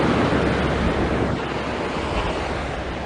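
Ocean surf at Big Beach on Maui, Hawaii, washes in as a broad continuous roar, louder at first and then easing slightly, with wind buffeting the microphone and no voices.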